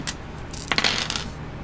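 Plastic dice for the Test of Honour tabletop game rattle and tumble onto a table, a short burst of clicking knocks about midway, close and moderately loud, with no talk.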